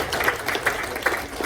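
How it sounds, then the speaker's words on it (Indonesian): Audience applause for a book's author at a book launch on stage, a short burst of steady clapping at moderate level. "Kita berikan tepuk tangan untuk penulis bukunya."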